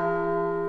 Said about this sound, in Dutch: Kan die kerkklok even uit?